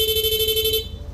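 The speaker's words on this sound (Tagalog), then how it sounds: "PIA horn" A PIA dual horn fitted to a Yamaha Aerox V2 scooter sounds one loud, steady, close blast for most of a second and then cuts off, leaving only a low idle rumble.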